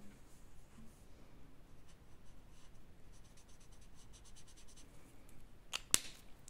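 Pen strokes scratch across the page of a bullet journal while it is being coloured in, quiet repeated bursts of faint scribbling with a sharp tap near the end.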